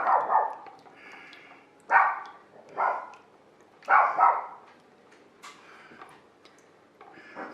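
A nervous small dog barks outside in a yard, a string of repeated, moderately loud barks in an irregular rhythm with short pauses.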